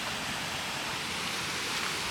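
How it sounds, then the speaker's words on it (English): Waterfall beside a hiking trail, a steady broadband roar of falling water that holds at an even level for about two seconds with no voices. "Waterfall there."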